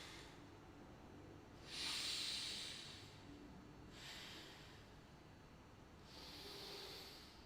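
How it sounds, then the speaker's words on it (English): Slow exhalations through the nose during a guided breathing exercise, three soft airy whooshes spaced a few seconds apart, quiet and close, with faint room noise between breaths. "Breathe out through the nose."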